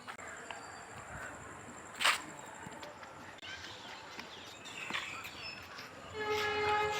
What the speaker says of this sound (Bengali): এই যে বাবা একটা ট্রেন